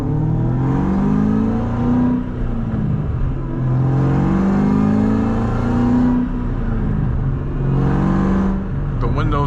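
A 500 hp car engine revs repeatedly while driving at dusk with the windows up, the rising and falling drone loud and close inside the cabin, in several surges.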